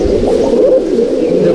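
Andhra pigeons of the habluk type, in a loft at Halisahar, coo and gurgle in a soft, steady, overlapping drone close by.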